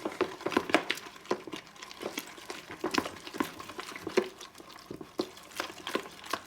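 Yeast being stirred into flour and water for a bread poolish, a run of soft wet sticky mixing strokes and crinkles close by, steady and irregular.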